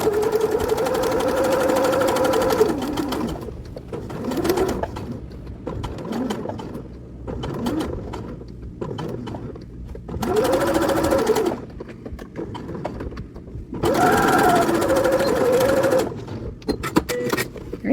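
A sewing machine back stitches a mini stocking in several short bursts of rapid, close mechanical whirring, with quieter pauses between runs.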